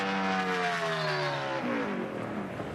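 NASCAR race car at speed during first practice for the 2017 Kobalt 400, a loud sustained engine whine with harmonics sliding as it passes close by, no talk.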